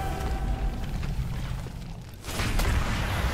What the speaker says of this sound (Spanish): Impresionante explosión, toda la mierda